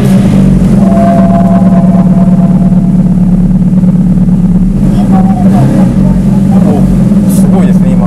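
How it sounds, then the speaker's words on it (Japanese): Ferrari F430 engine running at idle, a loud steady low rumble with a strong constant drone, heard close up throughout with a person talking over it. "ちょっとエンジンかけてみたいと思います。"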